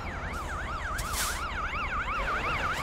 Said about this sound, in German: Ah, es ist ein Krankenwagen. Die so jaulen.